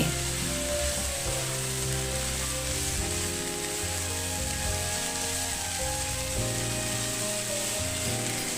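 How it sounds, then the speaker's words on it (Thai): Cooked pork stir-fried with three sliced local vegetables, a steady loud sizzle with scraping stirring throughout, alone with no talking. "พอหมูสุกแล้วก็เอาพักสามอย่างที่ซอยไว้นะ่ะใส่ลงไปผัดดัวยกันเลย"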